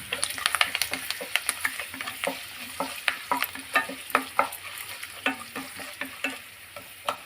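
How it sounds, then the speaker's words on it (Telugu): Curry leaves crackle and spit in hot oil during a tempering for radish chutney, a dense run of close, sharp pops and sizzles with stirring, no voices. "కొద్దిగా కరివేపాకు వేసిన"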